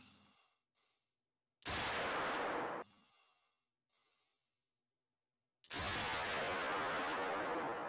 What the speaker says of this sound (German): Ich probiere es mal direkt aus mit der Pistole.